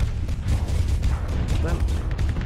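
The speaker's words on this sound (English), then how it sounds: "Some squalls, fire off some pylons" Squall and Pilum missile launchers firing in the space combat game Starsector, a dense rumbling barrage of launches and impacts with booming low end, steady and loud throughout, with a voice talking over it.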